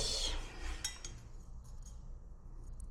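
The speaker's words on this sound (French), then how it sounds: "et ben je mets une baguette chinoise. Voilà. Une baguette à sushi pour mélanger." A sushi chopstick stirs and clinks inside a small container, producing a brief burst of light, close tapping and scraping at the start that fades into near quiet.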